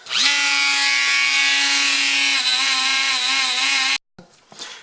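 A Dremel rotary tool spins up to a high steady whine and grinds loose rust off a Chevy Tahoe wheel hub flange continuously for about four seconds, then cuts off, followed by brief scraping sounds.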